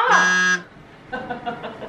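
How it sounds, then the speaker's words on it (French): A game-show style buzzer blares loudly for about half a second, a harsh tonal blast, followed by people talking. "Ah, encore le buzzer."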